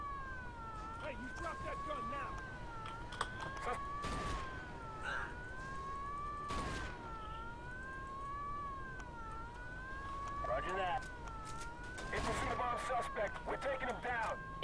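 A wailing police siren in the video game Mafia 2 rises and falls in a steady cycle under occasional talking and thumping noises, fairly loud against a busy background.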